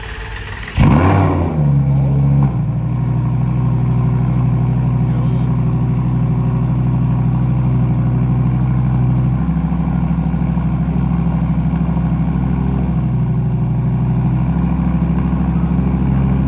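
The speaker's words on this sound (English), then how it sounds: "Dude, listen to this start up." A car with a ripped exhaust cranks and fires after a brief starter whine, then idles loud, rough and close for a long stretch with a slight rev partway through, and no one talks.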